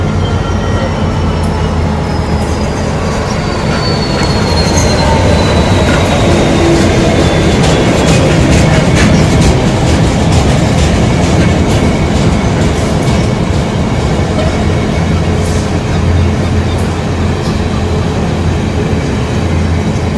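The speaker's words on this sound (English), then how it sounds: "66598 and I don't know where it's going." A freight train hauled by Class 66 locomotive 66598 passes at Ipswich on the Great Eastern Main Line, a loud continuous roar of rolling wagons with steady clickety-clack and faint squeals, close by.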